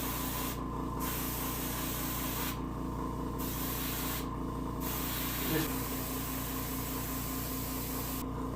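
A steady hiss of an airbrush spraying paint onto a brook trout taxidermy mount, with brief pauses where the spray cuts off, over a low mechanical hum.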